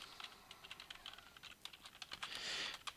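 Quiet, rapid clicking of computer keys as code is typed, with irregular bursts of keystrokes and a slightly louder cluster toward the end, no voices.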